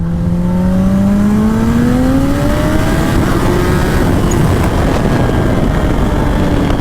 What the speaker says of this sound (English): Cody, I'm going to go by the left of you doing a second gear